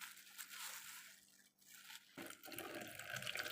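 Water is poured into a measuring container for a soap batch, a faint running and filling sound that pauses briefly and then resumes more strongly.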